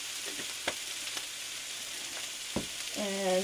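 Sausage and peppers fry quietly in a pan with garlic powder, a soft steady sizzle broken by a few sharp pops and utensil taps, with a brief voice near the end.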